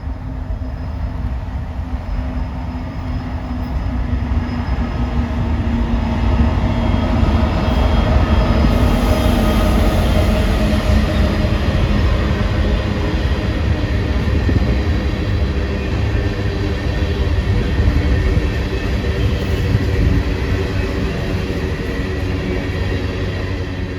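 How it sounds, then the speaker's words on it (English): A BNSF local freight train led by BNSF 1426, an XBN Triclops cab, with a Dash 9 rumbles past close by in a loud, continuous roar of wheels and cars, with a faint high squeal riding over the rolling clatter. "it was the local running back up to Murray Yard after completing their work in Spring Hill"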